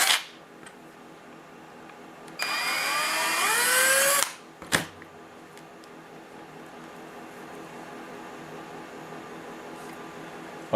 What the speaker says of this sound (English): And now I have to take that same drill and drill out the hole in